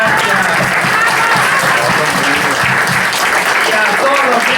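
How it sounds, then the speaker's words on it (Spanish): A large audience breaks into sustained, dense applause at a Ladino Day cultural event, loud and steady throughout with crowd murmur mixed in. "Queremos un aplauso gigante que se escucha hasta en Jerusalén"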